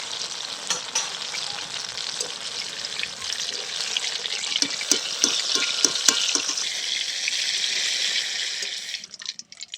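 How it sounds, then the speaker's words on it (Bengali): Eggplant pieces frying in oil for shukto make a loud, bright, continuous sizzle up close, dotted with crackles and utensil taps in the middle, before the hiss fades away near the end, with no speech. "দেখুন বেগুনটাও আমি খুব ভালো করে ভেজে নিচ্ছি"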